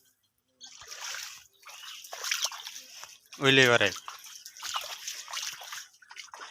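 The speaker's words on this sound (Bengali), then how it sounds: "তার জন্য আজকে মোটর লাগাইছি, পানি দিতেছি।" Motor-pumped water pours and splashes onto field plants in dry soil, a steady trickling slosh beneath someone talking, with a brief loud burst of another voice midway.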